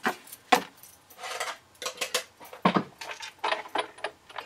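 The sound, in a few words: cutting pads placed into Big Shot die-cutting machine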